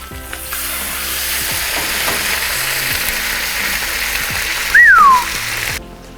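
Fish cooking over a low outdoor fire in the Bahamas, a steady soft sizzle and crackle running throughout, with a brief rising whistle near the end.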